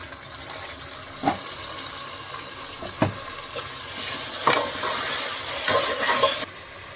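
Chopped tomatoes tipped into a hot pan for a meal maker biryani, sizzling and frying steadily with a few stirring scrapes and clatters, loud and close, no voices.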